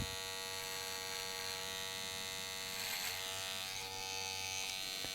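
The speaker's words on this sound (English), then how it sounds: "So I'm going to go in with the clipper facing down first." An electric hair clipper runs during a comb over haircut with a hard part, a steady close mechanical buzz with even tone throughout and a slight shift in texture midway as it moves through the hair.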